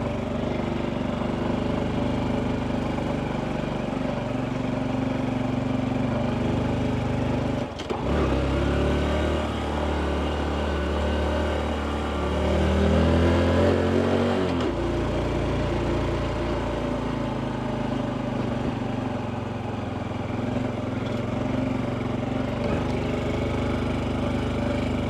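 A dirt motorcycle on desert trails hums with a steady mid-pitched engine drone close by, swelling into a louder rougher rev for several seconds midway before settling back to a constant run.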